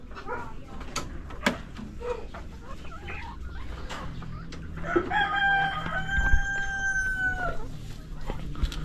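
Chickens in a coop with egg-laying nests, clucking and crowing nearby over soft farmyard background noise, with a brief sustained crow in the middle.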